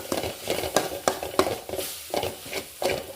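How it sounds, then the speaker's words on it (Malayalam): Chili powder being stirred into a Kerala-style chickpea curry, a rhythmic series of quick scraping spoon strokes against the pan over a soft sizzle, close and fairly loud. "രണ്ട് സ്പൂൺ മുളക് പൊടി ചേർക്കുക നല്ല ഇളക്കുക"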